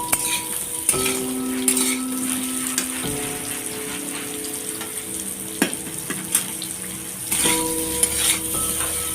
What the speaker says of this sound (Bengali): তেল দিয়েছি, জিরে লঙ্কা ফোড়ন দিয়ে মুখের শাক আলুটা ভাজা করছি।